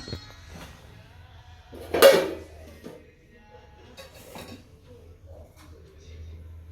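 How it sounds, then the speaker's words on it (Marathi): A single loud clatter of metal kitchenware, like a pot knocked on a kitchen counter during cleaning, with a few lighter knocks and a steady low hum around it. "आता कट्टा सगळा साफ करून घेते किचन कट्टा"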